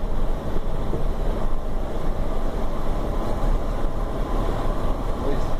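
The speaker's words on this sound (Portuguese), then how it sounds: "o vento tá chacoalhando todas as cortinas aqui no caminhão" Strong wind shaking the side curtains of a truck on a road trip toward Santos, a continuous low rumbling flap and buffeting with steady wind noise.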